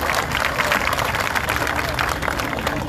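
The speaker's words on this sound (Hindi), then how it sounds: "एक जोरदार तालियों के साथ ताई का इस्तकबाल करते हुए" Crowd at an outdoor political rally in Mumbra claps loudly to welcome a candidate, a dense continuous roar of applause filling the whole moment with crowd noise mixed in.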